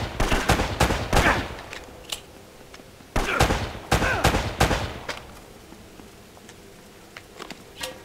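Gunfire in the video game Uncharted: Drake's Fortune: rapid clusters of shots rattle off in two bursts, then thin out into a few scattered, quieter reports against a low background, with no voice over them.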